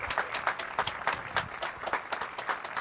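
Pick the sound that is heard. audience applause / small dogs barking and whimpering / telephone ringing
audience applause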